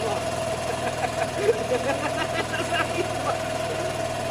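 A Vespa scooter converted from 125cc to 50cc and back, with a coil problem, runs with a steady, low, uneven engine hum, close by and under talking.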